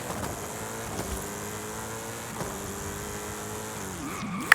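A 1973 Pontiac Firebird Trans Am SD-455 in the Forza Horizon 5 racing game: a steady, moderately quiet engine drone with slowly shifting pitch, a couple of rev changes near the end and a sharp click at the very end.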